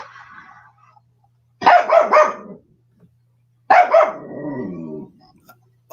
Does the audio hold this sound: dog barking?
yes